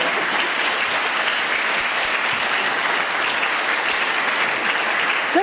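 An audience at a lecture hall event applauding, a dense sustained clapping from many hands, steady and fairly loud throughout the short stretch.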